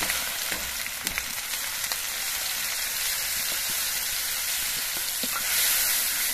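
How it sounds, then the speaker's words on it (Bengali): Spice paste fries with ginger in a pan for an egg curry, making a continuous close sizzle with faint stirring clicks that swells slightly toward the end. "মশলাটা দিয়েও মিনিট 2-এর মতো আমি কষিয়ে নেব"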